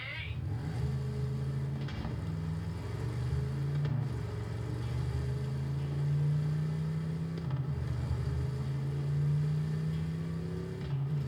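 A vehicle engine in Borderlands 3, a steady droning hum that rises and falls slightly as it drives, continuous and fairly quiet, with no one speaking.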